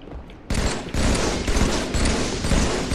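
Rapid, dense gunfire from a Halo 3 multiplayer match, loud, close and nearly continuous, with bursts swelling and overlapping after a brief quieter lead-in.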